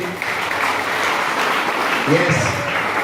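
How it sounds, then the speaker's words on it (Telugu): Applause for students receiving awards at a school ceremony, a dense, steady burst of many hands clapping from a crowd, loud and sustained with some voices mixed in. "మీ హృదయపూర్వక మన చప్పట్లతో వారికి ధన్యవాదాలు తెలియజేయండి"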